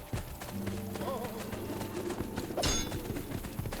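A horse gallops in a field in Assassin's Creed Brotherhood, a steady rapid clip-clop of hooves, with game music and a short whoosh over it.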